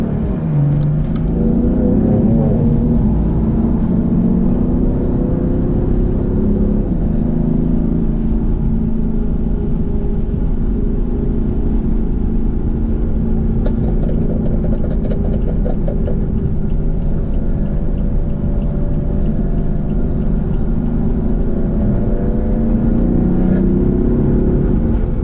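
Tuned Stage 2+ BMW F82 M4 with aftermarket exhaust and E50 tune, driven at night and heard from inside, a loud, steady engine drone that climbs in pitch as it accelerates hard through the gears.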